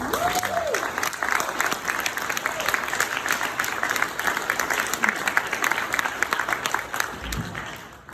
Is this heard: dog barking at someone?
no